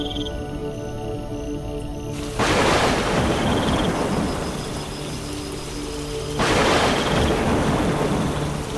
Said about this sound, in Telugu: ఒకరోజు అడవిలో పెద్ద తుఫాను వచ్చింది. ఎదురుగాలులు చెట్లను ఊపేశాయి. భారీ వర్షం కురిసింది.